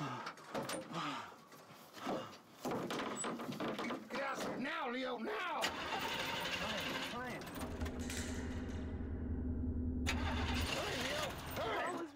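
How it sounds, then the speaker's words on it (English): Truck engine cranking and catching, then settling into a low steady idle, with a door or mechanism clatter and voices speaking over it in a tense dramatic scene. "Start up the truck."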